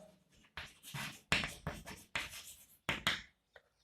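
Chalk or marker scratches across a lecture-hall board as an optics equation is written, a series of quick, distinct strokes and taps in irregular rhythm, close and fairly quiet.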